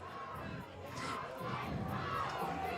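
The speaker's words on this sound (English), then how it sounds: "I can hear behind me St. Benedict's parents yelling down the river for the boys" Parents at a school rowing regatta cheer and yell from the riverbank, a busy wash of overlapping shouts from a distant crowd, faint and mixed with outdoor noise.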